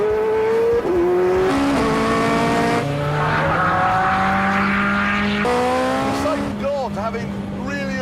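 A Ferrari 430 Scuderia engine revs hard and accelerates through rising, shifting gears, loud and close for the whole stretch with a brief tire squeal near the end.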